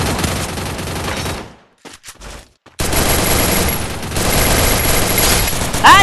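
Rapid bursts of video game gunfire fill the scene loudly, cutting out briefly to near silence midway before the dense shooting returns at full volume.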